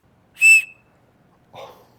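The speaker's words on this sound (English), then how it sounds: "a 120 decibel emergency whistle that can be blown through the pendant" A 120-decibel emergency whistle built into a survival pendant gives a short, loud, piercing blast, followed after a pause by a softer, breathier second toot.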